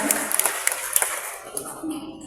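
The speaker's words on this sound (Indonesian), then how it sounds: "Kita berikan tepuk tangan yang meriah bagi Bapak Ibu untuk Kepala Dinas kita." Audience applause for the head of the district education office at the opening of an English teachers' forum in Blitar, with scattered claps rising from a crowd, then thinning out over the next second or so.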